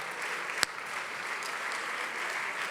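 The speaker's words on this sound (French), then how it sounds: "on peut l'applaudir bien fort s'il vous plaît" Supporters at a rugby team presentation applaud a player introduction with sustained, even clapping, a single sharp louder clap standing out near the start.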